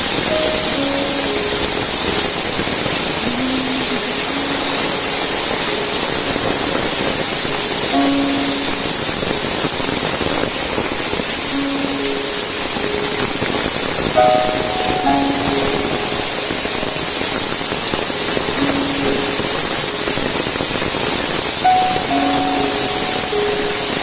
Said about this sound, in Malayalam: മുഴുക്കത്തെ മഴയാണ്.